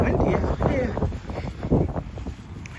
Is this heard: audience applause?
no